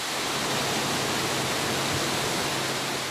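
City Creek cascades in the middle of a city pour in a loud, steady, dense rush of falling water, continuous and close with no voices.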